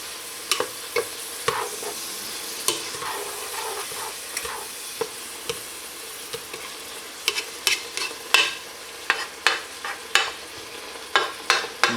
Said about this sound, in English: I'm going to stir this around a little bit.